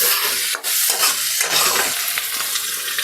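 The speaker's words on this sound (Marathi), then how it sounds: "छान असं परतून घेऊयात" Chopped bitter gourd (karela) is being sautéed in a pan: a loud, continuous sizzle and hiss with scraping stirring strokes throughout, and no talking.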